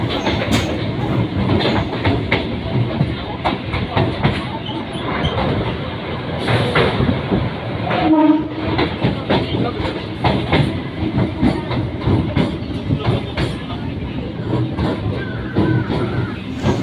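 A Kolkata Circular Railway local train runs steadily, its wheels clattering on the rails and the carriage rumbling loud and close throughout, with a brief squeal around the middle as it nears a station; no voices stand out.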